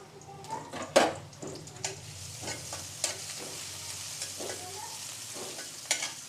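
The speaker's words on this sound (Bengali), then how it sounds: "শাকটা তেলে দিয়ে দিচ্ছে" Tough winter leafy greens fry in hot oil in a pan, a steady close sizzle broken by scraping stirring strokes and occasional utensil knocks.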